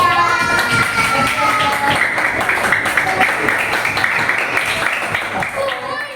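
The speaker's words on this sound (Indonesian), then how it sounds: "kasih tepuk tangan untuk kelompok 3" Children in a classroom clap for a student group after a fractions exercise, a dense busy patter of hand claps mixed with kids' voices running steadily throughout.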